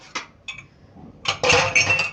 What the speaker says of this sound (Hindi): चाय के बर्तन धोने मुझे।